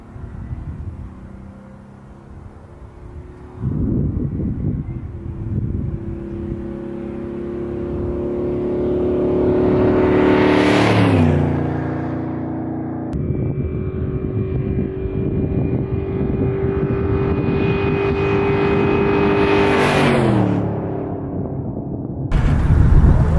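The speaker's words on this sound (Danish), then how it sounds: "der skal Mustangen ud og have tjekket sin tophastighed" A Ford Mustang accelerating hard during a top speed test, its engine note rising steadily through the gears with a roaring pass-by swell, loud and close, then climbing again before cutting off.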